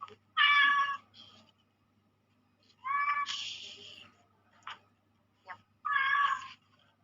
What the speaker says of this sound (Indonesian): kucing saya berisik